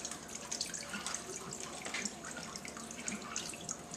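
Liquid brine pours and trickles steadily off a large raw Thanksgiving turkey lifted from its brining container, a continuous close splashing and dripping like running water into a sink.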